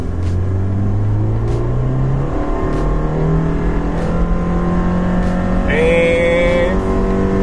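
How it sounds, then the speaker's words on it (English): A Subaru Impreza with a CVT accelerates at full throttle, a steady droning engine tone that holds near one pitch under constant road rumble, with a brief higher whine near the end. "So I'm going to floor this car, and I'm going to give you a demonstration of what I don't like about a CVT."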